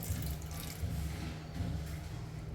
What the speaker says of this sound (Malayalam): പുളി പിഴിഞ്ഞത് ഒഴിക്കാം.